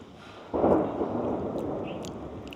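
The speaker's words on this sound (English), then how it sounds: "Lightning in the background." A single loud rumble of thunder from a nearby thunderstorm breaks in suddenly and rolls on, slowly fading over a couple of seconds.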